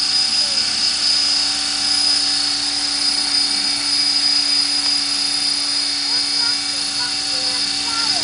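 A T-Rex 500 RC model helicopter flies nearby, its steady high-pitched rotor whine and motor drone holding constant throughout while people talk over it.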